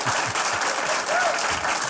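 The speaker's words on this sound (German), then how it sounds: "Ich nehme jetzt mal den Applaus für meine Autoren und Autorinnen" A studio audience at a comedy talk show applauds in a brief burst of close, full clapping that stays fairly even for about two seconds.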